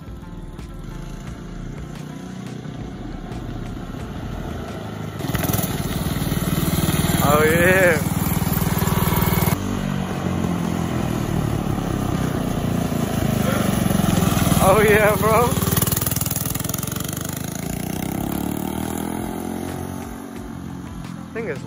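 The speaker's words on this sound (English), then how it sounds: "Now my dad said he would drive the go-kart now." A small go-kart engine fitted with rubber band tires drones steadily throughout, its pitch rising and falling as it revs and passes nearby, with people talking and exclaiming over it.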